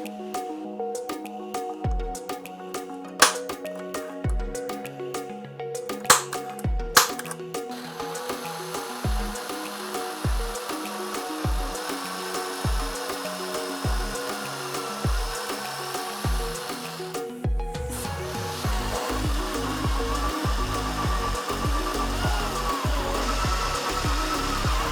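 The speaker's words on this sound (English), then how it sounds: "we're going to go ahead and drill that hole through the fiberglass enclosure" A power drill grinds through a hard fiberglass enclosure panel in repeated bursts, whining steadily, then a longer continuous drilling run near the end, loud and close.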